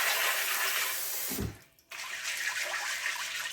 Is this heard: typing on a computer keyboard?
no